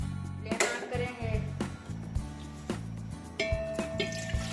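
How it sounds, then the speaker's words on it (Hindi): Water poured into a cooking pot while making jaggery rice kheer, a steady splashing, running stream close by with a few clinks and knocks of the pot over several seconds, no talking. "पानी डालेंगे।"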